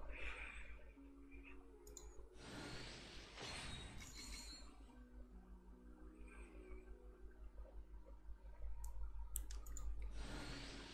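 Mouse buttons click sharply and repeatedly at close range during Genshin Impact wish pulls, a few louder clusters of clicks standing out over a steady low background hum.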